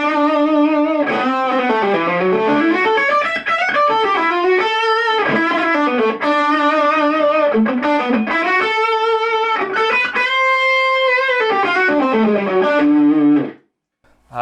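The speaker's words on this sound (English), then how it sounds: "what I've come to love about lead tones now seems to be captured quite nicely in this lead" Distorted electric guitar lead played through an amp's lead channel, a sustained, harmonically rich overdriven melody with bends and held notes running continuously and loud, then cutting off abruptly near the end.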